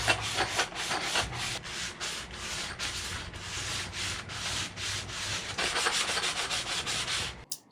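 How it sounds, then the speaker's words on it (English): Wood is rubbed with sandpaper wrapped around a screw box used as a sanding block, in fast rhythmic back-and-forth strokes, close and fairly loud, with no talk. "an example of what my sanding sounds like"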